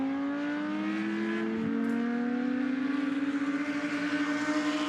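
GT2 race cars pass by at the Misano circuit, a sustained engine roar with a pitch that sweeps through a Doppler drop as a car goes past, then a second engine note rising and fading, loud and close.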